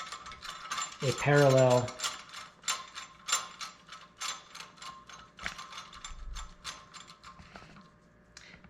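A ratchet tightens bolts on a parallel during setup for tack welding, giving a close run of quick metallic clicks with a brief squeaky creak near the start. The clicking keeps going at a steady pace afterward.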